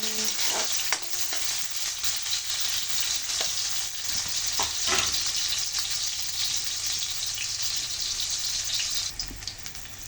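Hot cooking oil sizzles and crackles steadily in a wok with a broken handle while preparing canton guisado, a dense continuous fry with occasional sharper pops and stirring, close and fairly loud with no talk.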